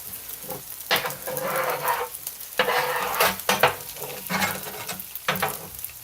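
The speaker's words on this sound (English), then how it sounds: "A little bit of that marinade. Let it bubble off. Woo! Got some poppin' rice." Marinade bubbles and sizzles hard in a hot pan of sweet chili pork fried rice, with loud bursts of popping and frying broken by stirring scrapes, close up.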